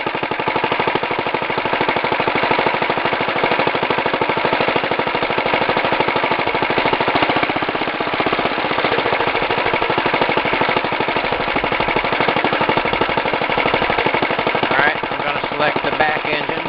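The front engine of a two-engine Wheel Horse garden tractor runs in a steady, loud, rapid chugging idle, close up and continuous.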